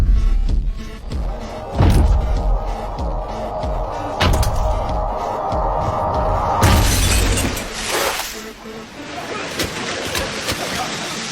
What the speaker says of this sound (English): I headed straight for the glass panel in the back, and I started punching it, one hit after another.